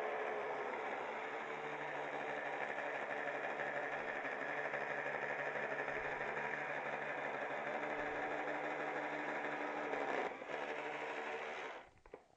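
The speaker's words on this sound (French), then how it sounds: "il fait coulisser la porte ici avec le moteur" A small Lego motor sliding a door on a Star Wars clone base whirs loudly and steadily for about ten seconds, a buzzy mechanical drone that stops abruptly near the end.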